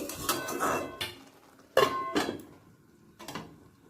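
Boiled vegetables and greens are stirred in a metal pan, giving a few separate clattering scrapes and knocks of the utensil against the pan with pauses between them.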